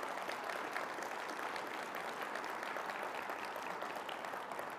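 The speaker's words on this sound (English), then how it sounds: "I hope you heard the applause that just broke out here" A conference audience at Consensus 2024 claps steadily for a congressman, producing dense, even applause at moderate distance that holds throughout without a break.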